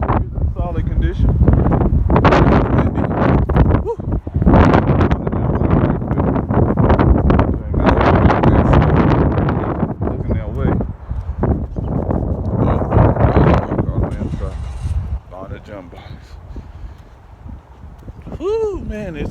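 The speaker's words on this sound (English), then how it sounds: "Whoo, man, it's windy." Strong wind buffets an outdoor dealer auto auction lot where a $500 Lincoln Navigator is being picked up, a loud continuous gusty roar across the microphone that eases somewhat near the end.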